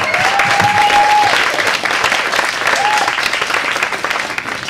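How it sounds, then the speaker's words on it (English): Lecture audience applauding at a health food store event, steady loud clapping filling the whole stretch with a brief whistle-like tone near the start. "One more round of applause."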